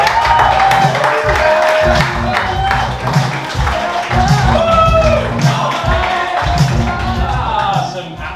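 A stand-up comedy audience at Mr Wolfs claps, whoops and cheers steadily as the act is introduced. The dense, loud applause carries on throughout, with a voice speaking over it.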